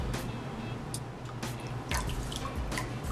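Water splashes and drips while a towel is dampened under a tap, giving a continuous close wash of running water with several brighter splatters and drips.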